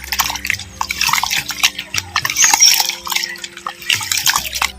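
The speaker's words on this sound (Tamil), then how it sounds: "நம்ம சேர்த்த பச்சரிசி உளுந்து துவரம் பருப்பு வெந்தயத்தை நல்லா ஒன்றுக்கு ரெண்டு மூணு முறை நல்லா அலசிக்கிறேன்" Raw rice, urad dal, toor dal and fenugreek being rinsed by hand in water, with repeated close drips, splashes and swishing in an uneven rhythm.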